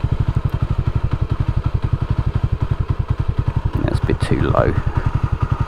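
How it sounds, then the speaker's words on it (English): A motorcycle engine idles up close with a fast, even thumping beat, then briefly picks up as the throttle is snapped open and settles back, while someone speaks over it. "I'm snapping the throttle open."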